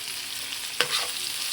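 Food frying and getting stirred in a pan, with a steady broadband sizzle and one sharp scrape or clink of a utensil partway through, fairly quiet with no talking.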